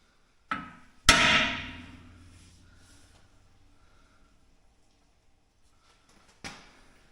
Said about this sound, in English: I do have a center punch in that, so I can mark it.